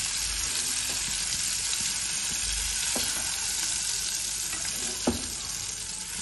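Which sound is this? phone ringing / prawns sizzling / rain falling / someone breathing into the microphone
prawns sizzling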